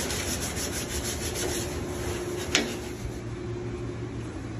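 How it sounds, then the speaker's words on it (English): Steady rubbing sander strokes on an old classic car during rust repair, a continuous close abrasive hiss with a brief sharp knock midway and no talking. "Sanding."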